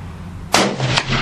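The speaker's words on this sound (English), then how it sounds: "Close the bolt. And fire it." A single loud rifle shot from a Browning A-Bolt in .223, a sharp close crack with a brief outdoor echo and a smaller report following, with no talk.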